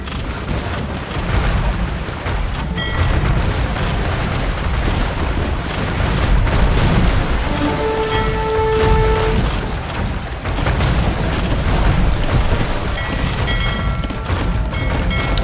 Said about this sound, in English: Okay, so I still got 3 cannon guns left